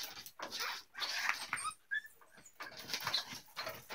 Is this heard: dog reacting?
yes